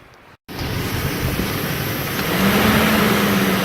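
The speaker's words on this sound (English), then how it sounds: "we've got the engine running on the vehicle now" A steady, loud engine hum drones continuously after a brief cut at the start, rising slightly toward the end with a low whine underneath.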